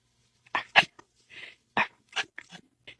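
A voice whispers soft, breathy dog-bark imitations: several short, quiet woof-like puffs spaced irregularly, close to the listener with no other sounds.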